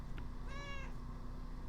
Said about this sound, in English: God, I'm so happy you're my cat.